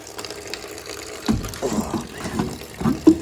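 Water drains from the water box of a car being torn down, a gurgling, splashing trickle with irregular glugs and knocks that grow more pronounced toward the end, close by and with no talking.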